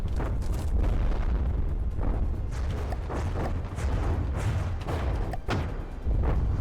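Heavy bombs dropped by a bomber explode in the naval combat game From the Depths, a loud, continuous rumbling barrage of overlapping booms and blasts with no voices.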